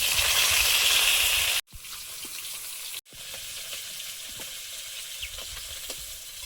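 Pangas and tengra fish sizzle steadily in hot oil, loud and close, the crackle dropping briefly twice before settling into a quieter bubbling fry; no voices.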